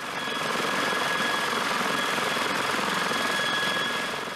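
A Sikorsky CH-53, a large heavy-lift military helicopter, drones with a steady broad roar and a thin sustained whine, constant and loud throughout.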